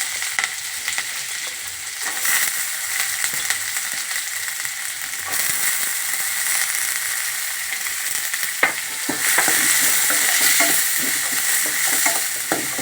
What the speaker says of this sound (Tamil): கேரட் நல்லா வதக்கிட்டோம்.